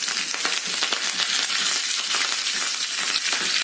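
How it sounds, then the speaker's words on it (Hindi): Curry leaves hitting hot oil with mustard seeds for a pickle of broad beans: an intense, close crackling sizzle with dense popping that stays loud and constant, then cuts off abruptly at the end. "अभी हम डालेंगे इसमें करी पत्ता,"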